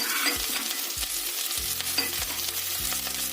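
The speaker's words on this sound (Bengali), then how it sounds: "প্যানের তেলটা গরম হয়ে গেছে, এবার আমি আদা আর রসুনটা দিয়ে দিলাম" Ginger, garlic and onions fry in hot oil in a pan, a bright continuous sizzle punctuated by several low knocks of stirring against the pan, close and with no one talking.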